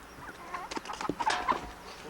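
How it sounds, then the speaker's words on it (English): Chickens clucking and squawking close by in short irregular bursts beside a road on Kauai, Hawaii, with a little outdoor background noise and a faint bird call. "There's chickens all alongside the road"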